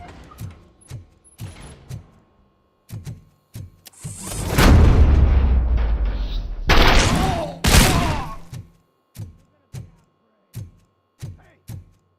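Gunfire and explosions in the first-person shooter RoboCop: Rogue City: spaced heavy thuds like footsteps lead into a long roaring burst of blasts and rapid fire, then more evenly spaced thumps follow.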